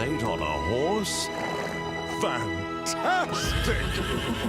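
A horse neighs loudly several times in rising, shaky whinnies, with hooves clopping and shuffling nearby between the calls.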